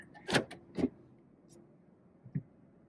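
Power side mirror motor of a 2020 Lexus RC adjusting, three short quiet mechanical whirs and clicks, close and faint, with near silence between them.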